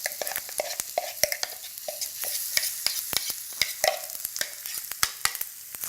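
Lentil smash stirred around a hot pan with popping mustard seeds, a busy close sizzle broken by frequent sharp scrapes and clicks of the spoon against the pan, with no talking.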